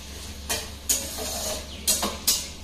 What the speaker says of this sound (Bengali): বিনস, গাজর, ক্যাপসিকাম সব একবারে ভেজে নিচ্ছি